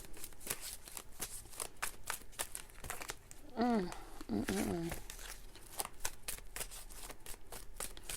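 Tarot cards are shuffled and drawn in a steady run of quick, close riffling flicks and soft snaps. A voice speaks briefly partway through.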